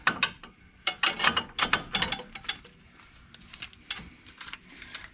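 A ratchet wrench loosens the bottom strut bolt on a 2004 Mustang GT during a Koni strut install, with quick clustered clicking bursts close by in an uneven rhythm and no talking.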